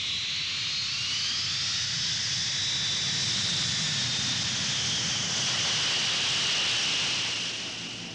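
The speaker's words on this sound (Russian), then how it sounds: "Самолет из Парижа разрывает предрассветную тьму." A passenger airplane from Paris roars overhead in the predawn dark, a loud, steady jet rush with a whining high tone that holds for several seconds before easing slightly at the end.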